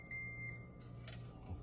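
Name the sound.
multimeter continuity beep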